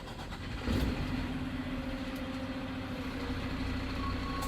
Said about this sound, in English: I'm now going to start my truck for reverse.